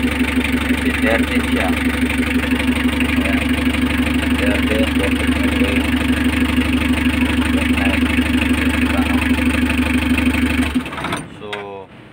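Vehicle engine checked for alternator and battery charging, running at a steady low idle with an even hum and faint mechanical ticking for about ten seconds before dropping away, with a person speaking over it.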